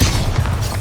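A single Bombarda spell explosion in Hogwarts Legacy, a deep heavy boom with rumbling low-end thud, loud and brief, standing almost alone.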